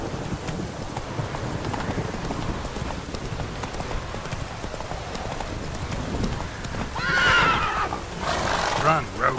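Roach, the horse in The Witcher 3: Hearts of Stone, gallops with a rapid clip-clop rhythm and neighs loudly twice near the end, under a steady bed of game ambience and a voice.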